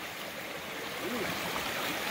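A stream rushes steadily nearby, a constant broadband wash of flowing water with faint gurgles.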